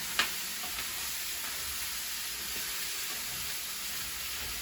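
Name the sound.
stirring chicken liver curry frying in a pan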